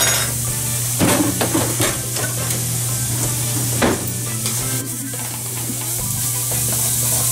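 Corn kernels cut from one cob sizzle steadily in a hot frying pan while being stirred, with spatula scrapes and clinks against the pan standing out over the continuous frying hiss, close and loud, without talk.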